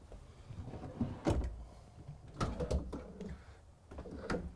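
Soft-closing drawers in a 2022 Newmar Dutch Star 4081 motorhome closing, several quiet muffled thumps and slides spaced a second or so apart in a calm interior.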